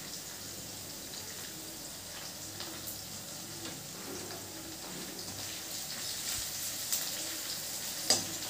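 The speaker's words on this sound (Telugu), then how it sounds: "ఉల్లిపాయలు పచ్చిమిర్చి కరివేపాకు కాస్త వేగిన" Onions, green chillies and curry leaves fry in a pan for atukula upma, a faint steady sizzle with soft stirring clicks and a small clatter near the end, no voices.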